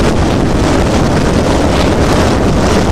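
A catamaran's engine runs steadily to charge the battery at sea during an Atlantic crossing, a loud, continuous drone blended with wind rush on the microphone.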